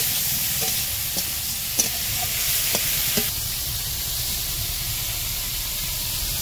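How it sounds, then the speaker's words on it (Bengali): Pond fish stirred with salt and turmeric in a hot pan, an even hissing sizzle with a few scraping stir strokes early on, close and steady. "এই লবণ দেবো, হলুদ দেবো। নাড়াচাড়া করবো।"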